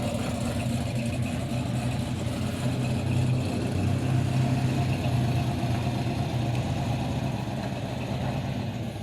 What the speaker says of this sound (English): he's got a big block Chevy in that